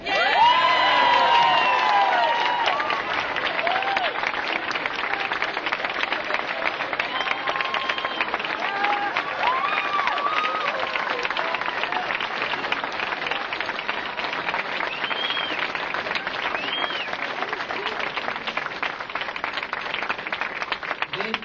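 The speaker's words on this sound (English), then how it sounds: "They deserve every bit of that applause" Crowd at Markell's primary election victory speech bursting into loud, sustained applause mixed with cheers and whoops, a dense wash of clapping that holds steady for over twenty seconds.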